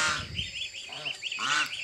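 A Bengal goose kept as ornamental poultry gives a quick series of nasal honks, close and fairly loud, several calls in rapid succession.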